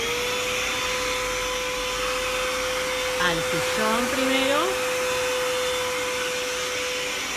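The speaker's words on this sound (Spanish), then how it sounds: "Vamos a pasar la aspiradora." A household vacuum cleaner runs steadily with a constant whine and airy hum, while a voice speaks briefly over it near the middle.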